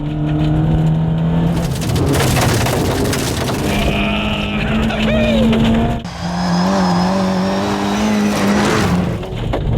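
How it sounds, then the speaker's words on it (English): A Mini Cooper engine revs hard and loud as it races along a rocky gravel road, tires rumbling and scrabbling, with a voice heard over the driving noise. "I feel like I'm in a super-powered tin can, skating just 4 inches above this rocky gravel road."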